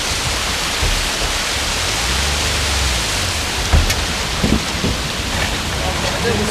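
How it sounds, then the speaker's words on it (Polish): A vehicle fords a rushing mountain river on the Svaneti loop road in Upper Svaneti, Georgia, with steady broadband water roar and wind buffeting, low engine rumble and a few splashing thumps near the middle. "O, a tak to brodzimy przez rzekę."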